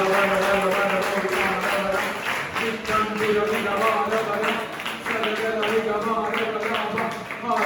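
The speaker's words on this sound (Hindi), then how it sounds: "आइए ताली बजाकर हम उसको सुबह करें" A church congregation claps in a steady rhythm during a sermon, the evenly spaced claps blending with voices and music in a full, reverberant hall.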